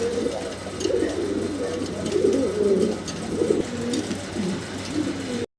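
Fancy pigeons at a pigeon market cooing in low, repeated murmuring calls, several birds overlapping steadily and fairly close, with no talking.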